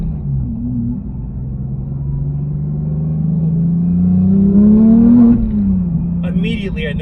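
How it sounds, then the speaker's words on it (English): A 2018 Porsche 911 GT3 with its 4-liter engine and opened exhaust revs up, a deep rumbling drone that climbs steadily in pitch and loudness before dropping back, heard close and without talk. "Okay, so we'll open this exhaust up a little bit."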